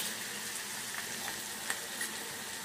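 Curry leaves crackle and fry in hot oil with a steady close sizzle, broken by a few sharp pops and spits, with no voices.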